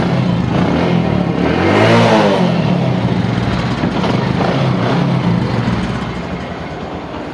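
A Bajaj Discover 110 motorcycle engine is revved up and eased back once, a close, loud rising and falling drone that settles to a steady idle and fades slightly at the end.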